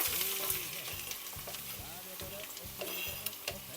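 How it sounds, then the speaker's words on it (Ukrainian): Onions sizzle and crackle steadily in hot oil for goulash, close up, with a regular scraping stir and faint clinks running through it. "Засиваємо цибульку, горячу олію"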